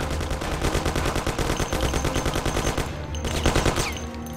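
Thompson submachine gun firing in the video game Mafia, a loud, sustained rapid burst of automatic fire with a brief gap near the end before more shots, no talk over it.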